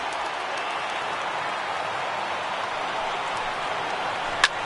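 A baseball stadium crowd of over 37,000 in a PS4 video game roars steadily as fans rise to their feet, a dense, sustained wash of cheering with one brief sharp crack near the end.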